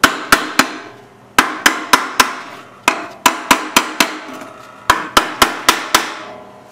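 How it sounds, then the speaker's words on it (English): Sharp metallic hammer taps on a 10 HP Briggs engine part during a rebuild, in quick clusters of three to five strikes, each ringing briefly, loud and close. "Tap it with the hammer part."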